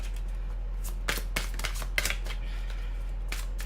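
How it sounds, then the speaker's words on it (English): Tarot cards are shuffled by hand in a quick run of crisp riffling bursts and soft slaps, close and clear over a constant low electrical hum. "One more shuffle, and I'll take it from the top."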